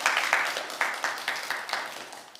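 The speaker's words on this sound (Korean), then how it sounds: "박수 한번 쳐주세요" Applause from a church congregation, a brief round of clapping with loose, uneven hand claps at moderate level, no speech over it.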